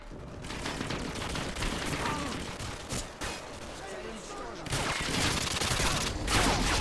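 Gunfire rattles through a Modern Warfare 2 match on Xbox 360, with repeated bursts and shots of varying loudness, some near and some farther off, mixed with game noise and a voice talking.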